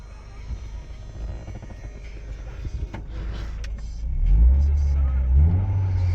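An old Mercedes four-cylinder car engine runs steadily with a low throb, building to a deeper, louder rumble partway through as it revs, with some faint mechanical whirring.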